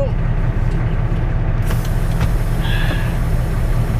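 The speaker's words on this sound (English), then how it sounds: "Put her in gear and we are out of here." A semi truck is put in gear and pulls out, its heavy engine rumbling loud and close throughout, with a brief air-brake hiss partway through.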